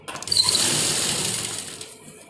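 A sewing machine runs a short burst of stitching along two joined pieces of kurti fabric, a close, fairly loud whirring hum that ramps up and then fades out within about two seconds.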